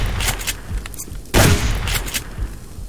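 Gunfire in the survival game Subsistence during a co-op raid on hunter bases: a sharp, loud blast bursts out midway over steady background noise, with smaller shots and rumbles scattered around it.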